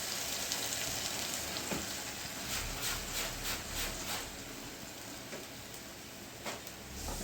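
Hot tempering sizzling for a bottle gourd and chana dal curry, a dense steady hiss of spices in oil heard up close without any voices, with a few faint clicks and swells.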